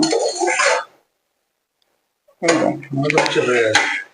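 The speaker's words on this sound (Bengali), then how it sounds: "এবার আমি ঢাকনাটা খুলে দেখবো সিদ্ধ হয়েছে" A metal lid clanks and scrapes as it comes off a cooking pot of tomatoes being boiled for homemade ketchup, two brief bursts of clatter separated by a quiet pause.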